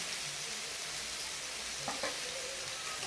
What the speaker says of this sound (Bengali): আমি ভালো করে নেড়ে ছেড়ে দেবো